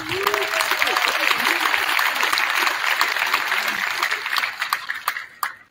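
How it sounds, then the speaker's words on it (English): An audience at a middle school winter band concert claps steadily for several seconds, a dense wash of applause that fades out toward the end. "Can you give him a round of applause?"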